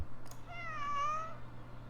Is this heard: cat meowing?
yes